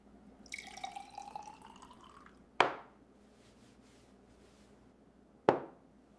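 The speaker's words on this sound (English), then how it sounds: "After mixing everything well, I pour my finished herbal." Finished herbal hair oil, mixed with peppermint essential oil and vitamin E oil, is poured in a soft, steady trickle for about two seconds, followed by two sharp, close knocks spaced a few seconds apart in a quiet room.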